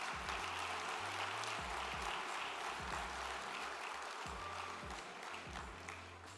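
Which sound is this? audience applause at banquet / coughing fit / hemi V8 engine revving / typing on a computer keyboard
audience applause at banquet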